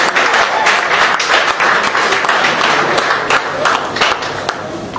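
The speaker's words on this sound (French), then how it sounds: "Est-ce qu'on peut l'applaudir très fort, s'il vous plaît, mesdames et messieurs?" Loud audience applause at a Paris album presentation evening for a singer, dense clapping filling the room steadily throughout and easing slightly toward the end.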